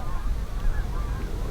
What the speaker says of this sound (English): And Canada geese splashing around further down the lake.